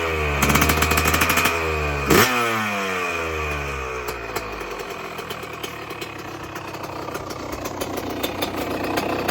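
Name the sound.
cold motorcycle engine idling low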